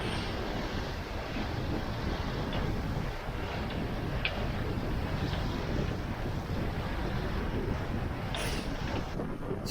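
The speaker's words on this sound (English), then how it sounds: "It's pretty blustery out here." Blustery wind buffets a small Catalina Capri sailboat on Lake Ontario, a continuous loud roar of wind noise over the microphone with water rushing beneath, no voices.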